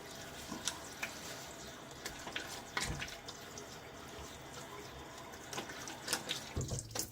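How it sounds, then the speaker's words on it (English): Water runs from a bathroom tap to rinse off after a wet shave, a steady quiet splash into the sink with brief louder spatters and drips, close by, with no voices. "Rinsing off of the first pass"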